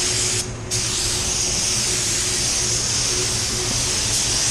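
Spray gun laying down a paint coat at 18 PSI, a loud continuous airy hiss with a brief dip near the start, then steady spraying with no speech.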